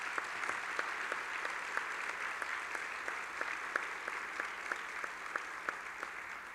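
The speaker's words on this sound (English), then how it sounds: "if we can both give them a strong round of applause for their leadership in this area" Applause from a conference audience at a charter schools gathering in Milwaukee, fairly faint and distant, a steady wash of clapping with a few sharper individual claps standing out.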